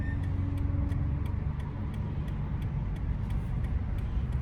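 A car's turn signal ticks in an even, rapid rhythm inside the cabin, faint over a constant low hum of the idling or slowly moving vehicle, with no talking.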